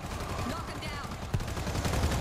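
Rapid bursts of gunfire from the zombie shooter game World War Z rattle in quick succession, with a player's voice partly over the shots.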